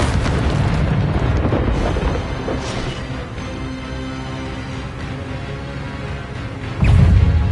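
A fire spell is cast in Hogwarts Legacy with a loud, sustained roaring burst. It rumbles steadily for several seconds and ends in a sharper, heavier blast.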